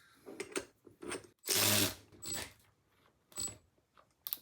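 A VEVOR tire bead breaker is tightened down on an aluminum wheel, giving several short close ratcheting, clanking bursts and one longer grinding burst of metal strain, with quiet gaps between.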